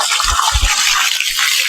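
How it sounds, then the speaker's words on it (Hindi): Water is poured into a concrete mix for a slab, giving a steady rushing, splashing pour with a few low thuds near the start, close and loud throughout. "इस तरीके से ये पानी इसमें मिलाया जा रहा है"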